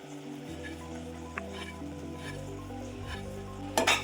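Turmeric, salt and chili powder sizzle steadily in a hot pan while a dish of curry with fox nuts is being cooked. Soft stirring and a low background hum run beneath the frying, and a sharp scrape near the end marks a stir.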